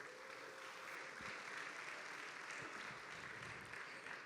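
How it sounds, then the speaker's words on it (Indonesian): Audience applause at a university event in Bandung, a steady wash of many hands clapping, faint and distant, with no clear voices over it. "Kita berikan tepuk tangan sekali lagi."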